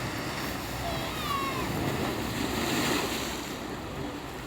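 Steady sea surf at Sevastopol rolls in continuously, a broad washing roar with wind noise on the microphone and faint distant sounds on top.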